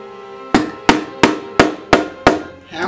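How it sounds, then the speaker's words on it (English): Six sharp, evenly spaced hammer blows strike a metal leather punch through leather, each ringing briefly before the next, close and loud. "hammer them down. Make sure you go all the way through."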